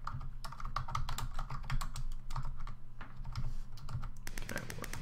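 Fast, irregular clatter of keys on a computer keyboard, close up, with bursts of rapid taps broken by short pauses, and no talking over it.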